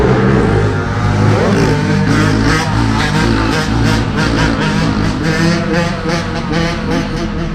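A motorcycle engine drones loudly and close as it rides along a road, a steady rich roar with a slight rise in pitch partway through.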